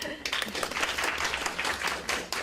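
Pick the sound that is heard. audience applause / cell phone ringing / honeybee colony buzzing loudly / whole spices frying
audience applause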